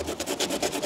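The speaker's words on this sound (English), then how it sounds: "obviously I need to record as much sanding as possible" Resin parts being sanded by hand produce a close, continuous gritty rasping with a quick back-and-forth rhythm, alone and moderately loud over a brief moment.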